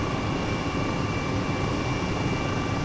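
An H135 helicopter flying along the French Riviera in Microsoft Flight Simulator gives off a loud, steady, unbroken engine and rotor drone with no voices.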